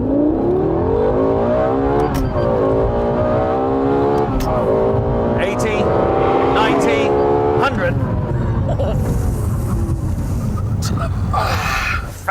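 A supercar pulls hard up to 100 miles an hour, its engine note climbing loud and close through several gear changes, each upshift dropping the pitch before it rises again, with wind and road roar building toward the end.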